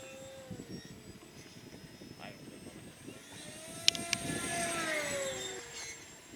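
An electric RC float plane with a higher-kV 2700 motor flies at the field, a steady whining drone with shifting pitch sweeps, moderately distant, under wind noise and occasional voices.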